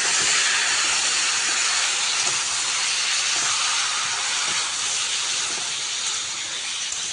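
Food sizzling in a pan while being stirred after salt is added, a steady close hiss of frying that stays loud and unbroken throughout.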